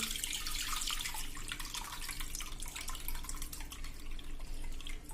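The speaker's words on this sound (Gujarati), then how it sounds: "તો હવે આનું આપણે પાણી નિતારી લેશું" Water running and dripping as soaked dried peas are drained in a kitchen, a steady close splashing trickle with no talk.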